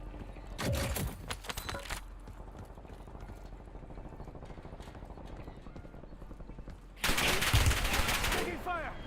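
Loud bursts of rapid automatic gunfire in a first-person shooter, one volley near the start and a heavier one near the end, separated by quieter battlefield ambience.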